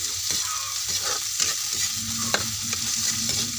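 Vegetables sautéing in a pan for ginataang gulay, a coconut-milk vegetable dish, with a steady close sizzle and frying crackle under repeated scraping and stirring strokes. No voices.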